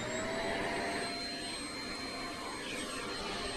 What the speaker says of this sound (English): I'm going to get started brushing her with the pet vacuum.